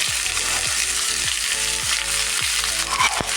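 Five green chillies fry with chopped onion in oil in a pan: a loud, continuous sizzle with regular spatula scrapes repeating about every half second.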